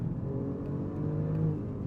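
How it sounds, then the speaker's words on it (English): Twin-turbo V6 sport sedan engine pulling hard out of curves, a steady, mid-close drone with a slight rise in revs, heard alone without talk. "that twin-turbo V6 is just raring to go, pulling you out of the curves"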